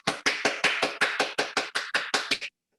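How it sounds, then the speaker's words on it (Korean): A quick burst of about a dozen sharp, evenly spaced claps, close and fairly loud, ending abruptly with no voices. "박수 부탁드립니다."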